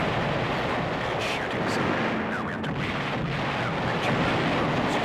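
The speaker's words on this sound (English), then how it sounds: "The explosions in this game are so loud." Loud, continuous booming blasts and rumbling explosions in the video game Battle Engine Aquila fill the whole stretch, dense and heavy with crackling bursts, with a faint voice in the background.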